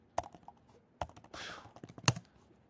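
Typing on a small laptop keyboard comes as a few sparse, close key taps and a short cluster of clicks in a quiet room.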